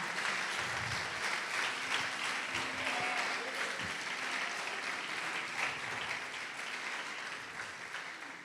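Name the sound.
congregation applause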